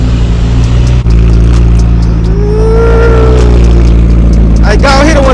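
A McLaren 720S sports car engine runs loud and close, rising briefly in pitch as it revs, with a person talking over it.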